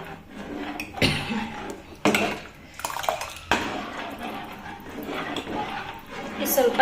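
Spoon scraping and clattering against a bowl while gram flour batter is stirred for North Karnataka bhaji, coming in irregular knocks and swishes close by, with a voice speaking over parts of it.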